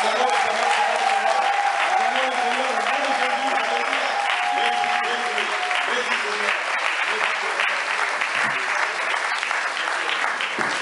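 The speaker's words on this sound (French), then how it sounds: "nous allons honorer aussi ce mariage par des acclamations" Long, steady applause and cheering from a congregation at a church wedding blessing, with voices and a sustained tone mixed in beneath the clapping.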